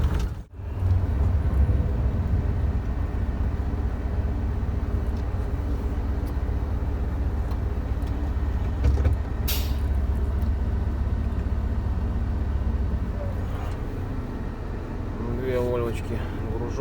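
Two loaded Volvo trucks rumble past on a snowy, icy road, a continuous low engine drone heard from inside a cab with a brief sharp clatter partway through.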